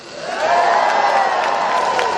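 Large outdoor crowd at an anti-racism rally in Newcastle swelling into sustained cheering and applause, rising quickly and holding loud with scattered whoops.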